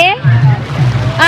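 A sea wave washes onto Calangute Beach in Goa with a broad, hissing rush of water lasting about a second, with voices briefly at either end.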